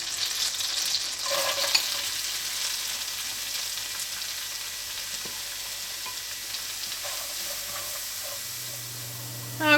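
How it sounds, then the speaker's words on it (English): Leeks soften in melted butter in a pan, giving a continuous gentle sizzle and hiss that stays steady for nearly ten seconds, with occasional faint stirring clinks and a low hum near the end. "We're going to heat this up and then melt the butter in it and then soften the leeks"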